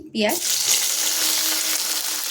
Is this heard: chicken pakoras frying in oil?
yes